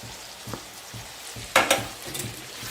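Curry leaves drop into frying onions in a pan for a Kerala-style chicken biryani, giving a soft steady sizzle with a brief louder crackling burst partway through and faint stirring scrapes.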